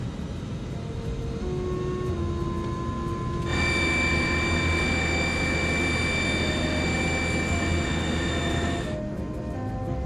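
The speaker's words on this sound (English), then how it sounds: "Fly runway heading. Clear for takeoff." Comair 191 jet airliner engines at takeoff thrust, a steady loud whine with a broad rumble, rising sharply partway through, holding for several seconds and then cutting back.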